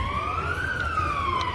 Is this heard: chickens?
no